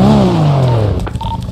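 Engine of a fast car in a video game, a loud tonal roar sweeping downward in pitch as it shifts or passes, with a short tone sounding near the end.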